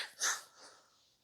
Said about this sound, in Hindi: बाप रे, खांसी आ रही है यार।